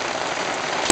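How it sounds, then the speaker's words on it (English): Steady rain falls in a continuous, close hiss of drops hitting a surface during a thunderstorm, with no pause across the short stretch. "On Monday, the rain came again."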